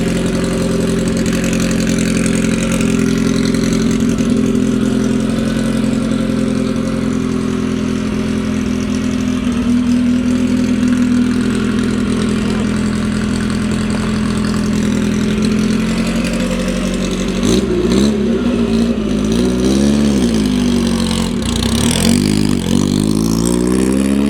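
A Škoda Fabia rally car engine, close up, holds a loud, steady idle for a long stretch, then climbs and falls through several sharp revs near the end, with no talking.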